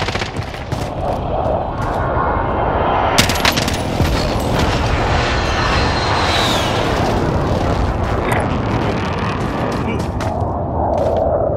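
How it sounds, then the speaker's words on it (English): Airstrike explosions and gunfire in a video game, a dense, continuous barrage of booms and shots with shouting voices mixed in throughout. "Be advised, friendly position airstrike inbound."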